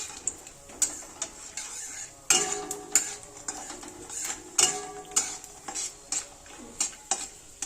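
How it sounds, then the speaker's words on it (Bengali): Peanuts fry in hot oil in a wok, with a constant sizzling hiss broken by sharp, repeated spatula clinks and scrapes against the metal. "এবারে কড়াই তেল দিয়ে দিয়েছি, তেলটা গরম হয়ে গেলে বাদামগুলো দিয়ে দিব।"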